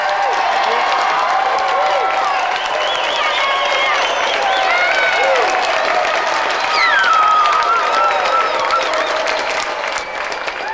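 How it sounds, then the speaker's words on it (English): A studio audience at a video-game TV show applauds steadily for three volunteers, a dense, loud wash of clapping mixed with cheers and crowd voices that holds for the full stretch without a break. "let's have another round of applause for our three volunteers, Jack, Angela and Rashpal"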